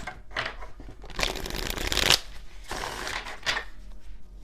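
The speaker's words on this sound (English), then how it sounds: "Let's do one more shuffle just in case." Tarot cards riffle and shuffle in two long, crisp bursts, close up, with short pauses of quiet handling between them.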